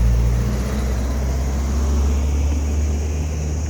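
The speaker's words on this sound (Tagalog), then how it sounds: "Aeroplano pa rin. Ang daming aeroplano." Airplane passing overhead at night on a walk from Kau to Shan to Fo Tan, a steady low broadband rumble that holds fairly loud and even for a few seconds.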